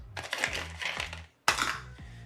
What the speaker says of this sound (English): I'm going to roll all my dice